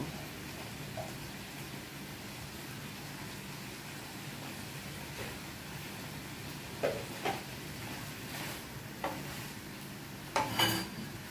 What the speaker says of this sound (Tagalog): syempre haluin natin ng maigi yan